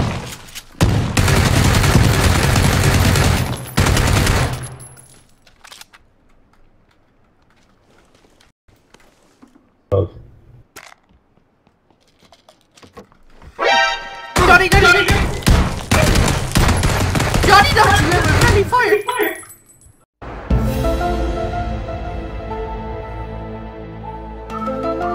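Video game gunfire in bursts of rapid shots, loud and close, separated by quiet gaps, with a final stretch of mixed game sound.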